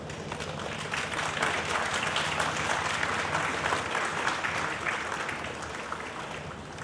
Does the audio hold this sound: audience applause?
yes